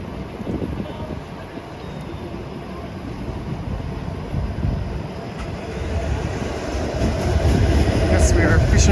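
Toronto streetcar approaching along a city street in winter, a low rumbling roll with rail clatter that builds steadily louder as it nears, close by, with street noise around it.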